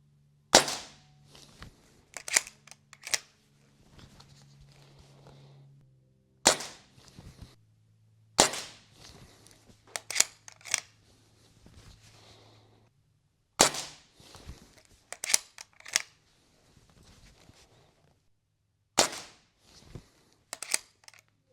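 An Artemis CR600W air rifle fires a series of sharp, close shots, each a crisp crack. They come singly or in quick clusters with pauses between, with faint mechanical handling noises in the gaps.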